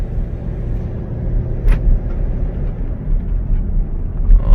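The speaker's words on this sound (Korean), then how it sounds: "이 차량 시운전을 해보면은 힘이 정말 없습니다. 이게 지금 거의 풀악셀이에요." A Kia Grand Carnival with a loss-of-power fault and air-system trouble codes, driven at nearly full throttle, gives a steady loud engine drone and road rumble from inside the cabin, continuous with no talking.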